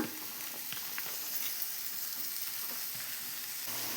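Spices frying in oil in a pan, a soft, even sizzle and faint crackle held close and steady throughout, with no one speaking.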